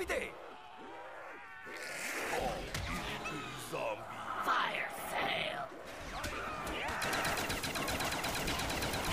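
Gunfire in a zombie video game: repeated bursts of shots against a busy, cluttered backdrop of game effects and groaning, steady and fairly loud throughout.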